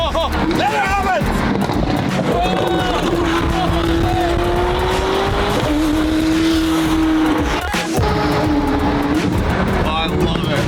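A modified McLaren 600LT with a roof scoop roars hard through rising and shifting engine notes, its tires squealing as it drives, with voices heard over the loud, continuous run.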